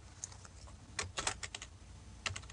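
Keys clack on a computer keyboard in quick, irregular bursts of keystrokes, loudest around the middle and again near the end, close by with no talking.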